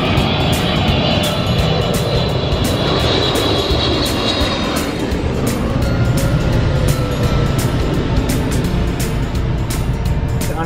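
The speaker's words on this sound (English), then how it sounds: "you see planes going over, like, very, very low." An airplane passes low overhead, a steady loud broadband roar of engine and rushing air that holds for about ten seconds outdoors, with a faint whine above the rumble and no speech.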